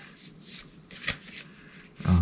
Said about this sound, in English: I don't think I shuffled these very well.